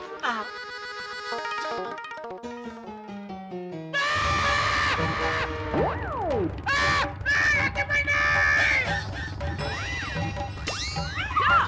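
A man screams in fear of an injection in a Hindi comedy scene, loud shrieking wails over busy, dramatic background music with comic sound effects, the scream rising and swooping in pitch.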